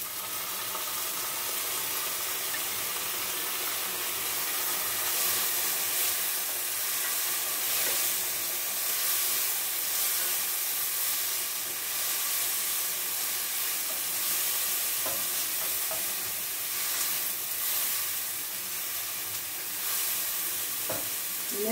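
Garlic sizzles and fries in a hot pan while coconut curry tofu is cooked, giving a steady, close hiss of frying with occasional stirring scrapes throughout.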